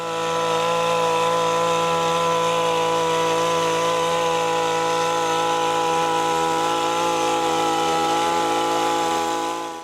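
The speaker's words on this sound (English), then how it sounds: "This is Stihl hedge trimmer, popular for its efficiency and accuracy." A Stihl petrol hedge trimmer runs continuously at high revs, a loud, steady buzzing drone with no pauses.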